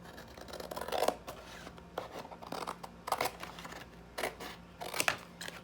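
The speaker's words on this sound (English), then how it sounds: "you can get a box out of your recycle bin and you can trim it. Just trim these extra parts off." Scissors trimming a cereal box from the recycle bin, a run of close, crisp cardboard snips and rustles at an uneven pace.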